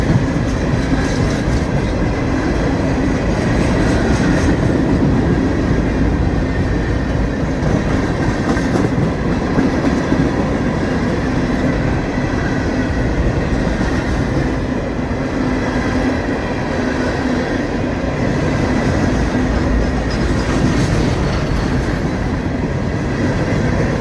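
A train rolls past at close range in Folkston, Georgia, running just ahead of an Amtrak, a loud continuous rumble with clattering wheels and rail noise that holds steady throughout.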